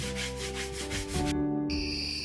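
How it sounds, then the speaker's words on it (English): Rhythmic back-and-forth rubbing of sandpaper by hand on a kitchen countertop, close and steady, with a faint tonal hum in the background. "I'm going to start out with just hand sanding this countertop."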